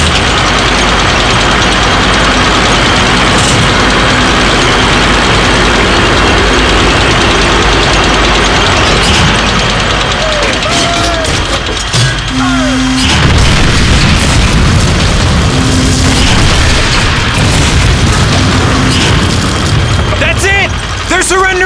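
Tank engine rumble and heavy cannon booms in the World War II shooter Call of Duty: Finest Hour on the Western Front, loud and continuous, with deep blasts around the midpoint and soldiers' voices shouting over the battle.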